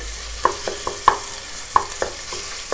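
Chopped onion being stirred and sautéed in a pan, with several distinct scraping clicks of a spoon against the metal over a soft, steady background sizzle, no voices.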